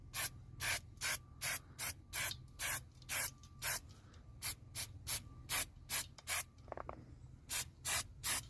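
Stone chip coating sprayed onto a Mk2 Golf rally car body in rapid repeated short hissing bursts, steady rhythmic pulses with a brief pause midway, fairly quiet and close.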